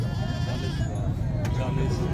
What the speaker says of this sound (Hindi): अच्छा ये बकरा आप चेक करें, काला बीतल